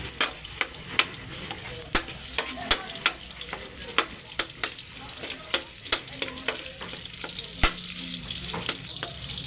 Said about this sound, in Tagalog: Lagyan na po natin ng bawang.